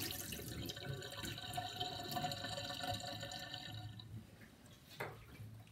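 Water running and dripping as a container is rinsed, a faint continuous splash that thins out partway through before a brief final gush.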